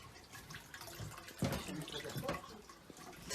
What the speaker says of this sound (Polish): Tak, wodospad.